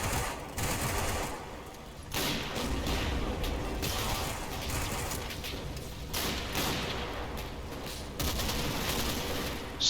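Small arms gunfire in the Combat Mission Fortress Italy game, with rifles and machine guns firing on panzers in Tunisia. Rattling volleys and single cracks go on steadily throughout, with brief pauses, and no voices.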